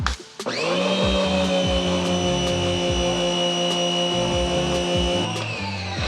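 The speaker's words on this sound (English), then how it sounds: "We attached it right here onto our power washer, just like that." A power washer runs with a short, lightweight wand attached, giving a loud, steady motor whine with a rough, pulsing low rumble that starts abruptly and holds near and constant throughout, with no talking.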